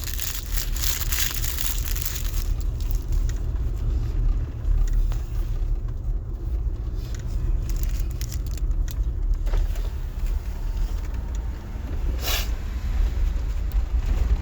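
Road traffic makes a steady, low, continuous rumble with occasional faint rattles and clicks, and no talking.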